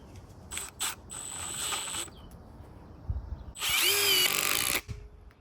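A Milwaukee M12 Fuel drill with a 5 amp hour battery, set to speed 3, drives screws in several short bursts and then one longer, louder high-speed run, heard up close and on its own.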